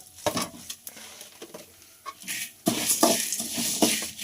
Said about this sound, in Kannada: ಜೀರಿಗೆ ಮತ್ತು ಧನಿಯಾ, ಚಕ್ಕೆ, ಲವಂಗನೂ ಕೂಡ ಹಾಕೋತಾ ಇದ್ದೀವಿ. ಇದನ್ನು ಕೂಡ ಹಾಕ್ಕೊಂಡು ನೀಟಾಗಿ ಹುರ್ಕೋಬೇಕಾಗುತ್ತೆ.